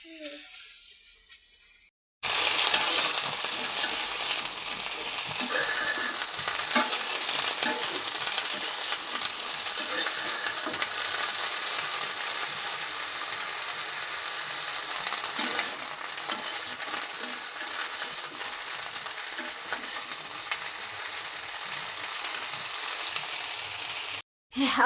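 Onions fry in oil in a home kitchen with a continuous close sizzle and scraping stirs, which begin abruptly after a short quiet start and run almost uninterrupted to the end.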